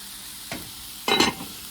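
Salmon fillet, zucchini and squash fry in a pan with a soft continuous sizzle, broken by two brief scraping stirs, the second louder and longer, close by and without talk.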